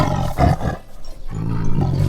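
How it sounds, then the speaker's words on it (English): A tiger roars loudly and close, two rough, sustained bursts separated by a brief dip, with no other sounds around it. "tiger"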